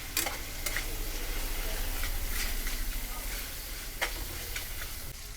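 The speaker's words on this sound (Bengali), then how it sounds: "ভালো করে মিশিয়ে নিচ্ছি" A spoon stirs spices and tomato sauce frying in hot oil, a steady close sizzle and hiss with scattered scraping clicks against the pan.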